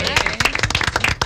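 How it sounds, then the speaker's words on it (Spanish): A studio audience on a Saturday morning TV talk show claps to welcome a guest. It is a short burst of dense, close clapping that lasts about a second. "Vamos a recibirlo con un aplauso"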